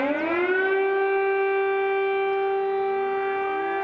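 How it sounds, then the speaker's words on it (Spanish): An air raid siren wails over Kyiv during the Russian invasion, a sustained, steady droning tone that rises at the start and then holds loud and unbroken, with a second siren faintly rising beneath it near the end. "Ucrania vivió la segunda jornada de bombardeos por parte de las tropas rusas que avanzan hacia la capital, que amaneció con el sonido de las sirenas."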